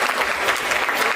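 Audience applause at an official commissioning ceremony, with a dense, even wash of clapping from a crowd that holds steady throughout the short stretch.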